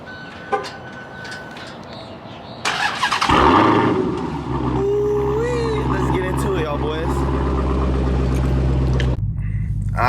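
A Dodge Challenger Hellcat, already warm, fires up with a sudden loud catch and a brief flare, then settles into a deep, steady idle rumble that runs on before cutting off near the end.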